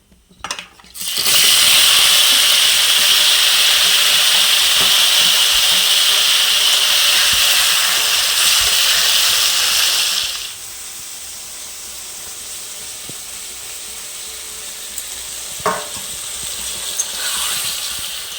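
Potatoes hitting hot mustard oil tempered with five-spice (panch phoron) for village-style aloo dum, erupting into a loud, steady sizzle that drops sharply after about ten seconds to a quieter frying hiss with occasional pops and stirring.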